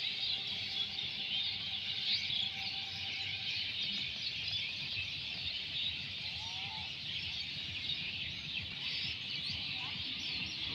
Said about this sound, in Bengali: পাখিদের শব্দ কত ভালো লাগছিল